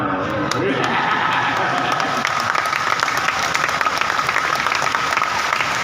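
At an Islamic community thanksgiving gathering, a crowd claps loudly and steadily with some cheering mixed in, a continuous dense burst of applause.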